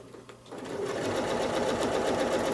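Sewing machine stitching a pinwheel quilt block, starting up after a brief pause and then running at a steady fast whirring rhythm, close and even, with no voices over it.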